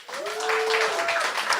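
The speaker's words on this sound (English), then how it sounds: "So round of applause for all of them" A short burst of audience applause at a film screening, moderately loud and continuous, with a voice briefly audible over the clapping.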